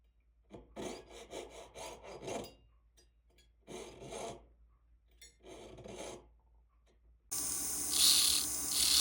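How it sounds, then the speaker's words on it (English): Rapid scratchy sanding strokes on metal ring prongs come in three separate bursts with pauses between, then a steadier, louder abrasive grinding runs to the end. "we're going to be sculpting them down by sanding them"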